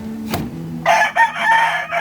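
A fighting rooster, a kalisayin bred for cockfights, crows once nearby, a loud ragged call of about a second after a short preceding sound, with no talking.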